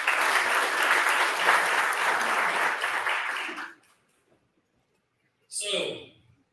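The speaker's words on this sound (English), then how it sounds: "give this man a round of applause" Audience applause at the Kayak Adventure Series Shoaliepalooza live award show: a loud burst of crowd clapping that stops abruptly, then silence before a brief voice speaks.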